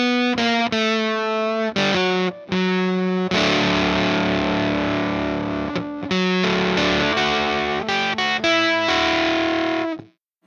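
Electric guitar played through a Tone Hungry Effects Fuzz Cream pedal, thick distorted notes and chords ringing out in bursts with short pauses between, close and loud, with no talk.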